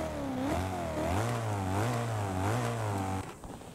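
A modified BMW M5 E39 in Forza Horizon 5 revs its aftermarket exhaust in several rising and falling bursts, a loud, raspy engine note that cuts off abruptly near the end.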